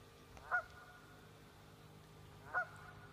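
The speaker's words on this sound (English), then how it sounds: "Ducks are cool. Geese are cool." Two separate loud honks, likely geese among ducks, sound a couple of seconds apart over a faint outdoor background.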